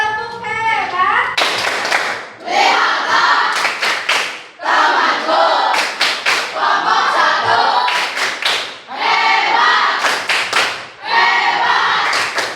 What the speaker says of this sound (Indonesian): Kita kasih tepuk hebat untuk teman kita.